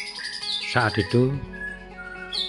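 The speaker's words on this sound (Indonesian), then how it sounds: "murai batu Borneo adalah salah satu murai batu yang mempunyai daya fighter" A Borneo white-rumped shama (murai batu) gives a loud, close run of rich whistled and chattering notes, with someone speaking softly around the call.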